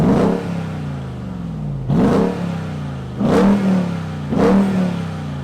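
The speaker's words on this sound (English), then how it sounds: "Let's go drive the Ram T-Rex. Start it up, rev it up," A Ram 1500 TRX pickup, the 702-horsepower model, revs its engine in four sharp bursts, each a loud roar that rises and then falls back toward idle, close by with no talk.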